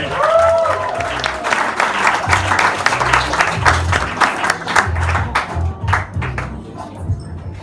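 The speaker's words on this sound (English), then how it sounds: "Make big applause for Dave Noble, everybody!" A comedy club crowd in Sydney breaks into loud applause with cheers as a comedian takes the stage, dense clapping that swells at first and then gradually thins out.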